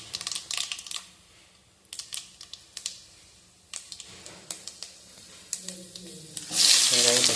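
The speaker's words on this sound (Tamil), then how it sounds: "எண்ணெய் சூடானவும் கடுகு நல்லா பொரியணுங்க." Mustard seeds, split chickpeas and black gram lentils fry in hot oil, giving close sizzling with scattered sharp popping crackles, and a louder hiss swells at the end.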